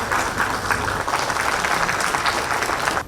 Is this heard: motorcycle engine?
no